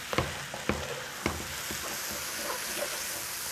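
Onions caramelizing over medium heat for French onion soup, a continuous soft sizzle broken by a few sharp spoon knocks and scrapes against the pan early on.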